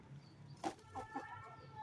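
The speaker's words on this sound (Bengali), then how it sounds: "মুরগি।" A chicken gives a few short, soft clucks, faint and somewhat distant against a quiet background.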